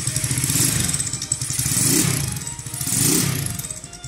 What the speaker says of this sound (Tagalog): So yan, sound check natin si kurak na 200cc.